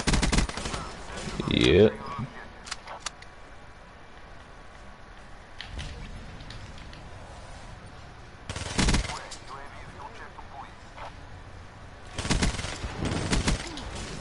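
Sniper rifle gunfire in Call of Duty: Black Ops 3 comes as a few loud, sharp broadband blasts, one near the start and two more later. They sit over a steady low game hum, with brief speech in between.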